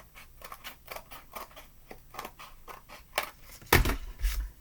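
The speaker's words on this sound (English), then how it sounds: "And then we're going to cut the bottom," Scissors cutting through a paper plate along its lines, a steady series of close, crisp snips with a louder crunching cut near the end, no talking.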